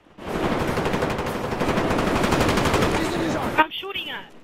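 Sustained automatic gunfire in Call of Duty: Black Ops on the WMD map, a dense rapid burst running about three seconds, loud and close, then stopping abruptly with a few brief voice sounds after.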